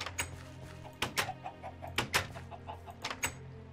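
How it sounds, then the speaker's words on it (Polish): Chickens cluck in short, quiet bursts in Minecraft with the Better Than Wolves mod, a few clucks spaced irregularly over a low steady hum. "Słychać kury, to jest dobry znak."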